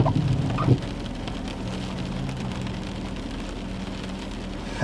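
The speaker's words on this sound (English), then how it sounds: "Can you guys hear the raindrops or not?" Steady rain falling outdoors as a shower picks up, a dense, even patter of raindrops close by with a low rumbling background and no voices.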